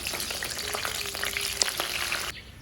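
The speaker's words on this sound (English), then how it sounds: "stir it and allow it to saute for about a minute on low heat" Sliced onion sautéing in vegetable oil on low heat, a close crackling sizzle with a few stirring scrapes and a faint tone, dropping off sharply just before the end, no voices.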